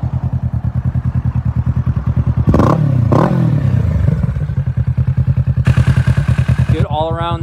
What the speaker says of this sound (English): Bike sounds killer with the Yoshimura exhaust.